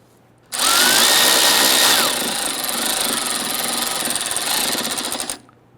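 A power tool drives Torx bit screws on a 1999-2004 Jeep Grand Cherokee 4.7L V8 during radiator replacement: one loud, continuous buzzing whir lasting about five seconds, pitch shifting partway as the screw snugs down.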